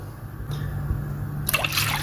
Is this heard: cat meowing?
no